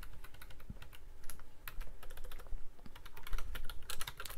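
Fast, irregular typing on a computer keyboard while modeling a cantilever beam in ANSYS APDL, a close run of crisp key clicks with no talk.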